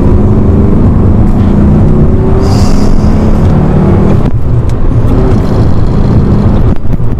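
An Alfa Romeo 33 1.7 QV with its boxer engine accelerates from inside the car, a loud, steady engine drone with rising pitch and a brief break midway, as if during a gear change.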